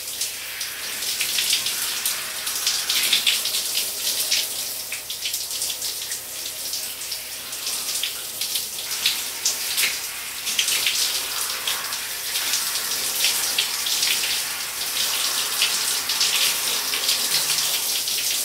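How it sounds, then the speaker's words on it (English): A shower runs over a head of hair, giving a steady, close hiss of spraying and splashing water that continues throughout with small shifts in intensity and no talk. "I'm actually going to let the water run from the crown of my head down to the front"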